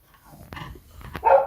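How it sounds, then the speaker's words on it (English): A big dog barks outside during work to repressurise a household expansion vessel: a couple of short, muffled barks at a distance, the last one louder. "Because the dog's outside and it's big and scary"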